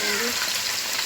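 Potato strips for homemade McDonald's-style French fries dropped into hot oil, giving a steady, loud, hissing sizzle of frying that fills the whole moment without pause.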